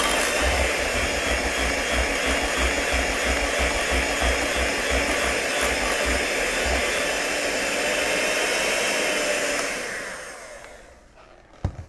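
An electric mixer whirs steadily while whipping frosting for banana bars, a loud continuous motor drone lasting about ten seconds before winding down and stopping, with a couple of faint clicks at the end.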